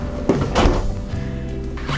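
A drawer slides open and shuts with a couple of soft thunks on a massive stacked-drawer freezer inside a Redwood fifth-wheel RV, close and moderately loud with no talking.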